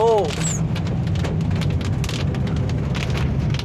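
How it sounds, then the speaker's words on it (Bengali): Rain suddenly setting in on a mountain road, a dense, steady patter and hiss of drops close by. A brief voice-like tone is heard at the very start. "আর এই যে বৃষ্টি শুরু হয়ে গেছে"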